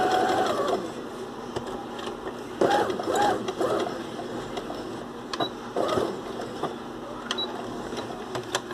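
A sewing machine stitches felt pieces in steady running bursts with brief pauses between, close and fairly quiet, with mechanical whirring and faint clicks throughout.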